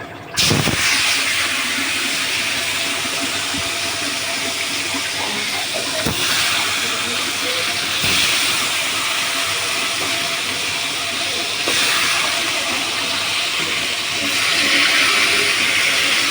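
Barbecue chicken pieces sizzle in a hot pan, giving a loud, steady hiss of frying that lasts the whole stretch, with a few faint clinks and no one talking.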